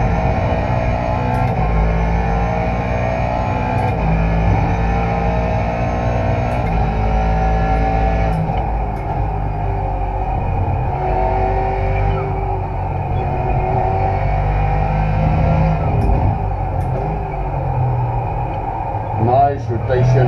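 A Ford GT3 race car engine in iRacing drones steadily at close range through a race, a sustained rumbling roar with slight shifts in pitch and a few brief ticks, while someone talks over it.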